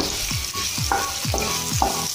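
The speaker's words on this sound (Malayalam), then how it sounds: "ഇപ്പോൾ ചെറിയുള്ളി നന്നായിട്ട് മുരിഞ്ഞു വന്നിട്ടുണ്ട്." Shallots fry in hot oil for a Thrissur-style fish curry tempering. A steady sizzle runs under regular stirring strokes that sweep through the pan about twice a second, close and clear.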